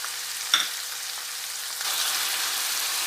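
Whole spices such as black peppercorns and garam masala sizzle and crackle in a hot pan for mutton kofta curry, a steady close frying hiss that grows a little louder partway through.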